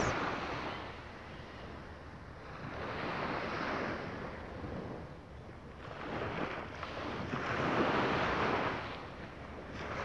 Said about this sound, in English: I will leave the ocean on for a couple more minutes.